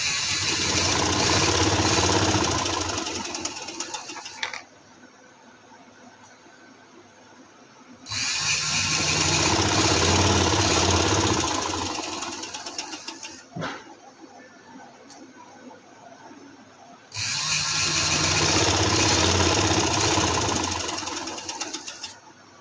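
A sewing machine stitching elastic into a salwar runs in three long, steady motorised bursts, with quieter pauses between them as the fabric is repositioned.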